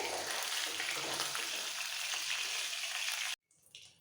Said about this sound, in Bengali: এই মাছগুলো ভাজা হয়ে গেছে এবার একটু সাবধানে ভেজে তুলে নিতে হবে